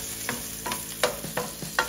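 Onions fry in a pan for Ilocano-style igado, with a low sizzle under a few distinct scraping stirs of a utensil at roughly regular intervals, close and moderately loud.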